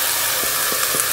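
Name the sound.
vegetables sizzling as they are added to hot oil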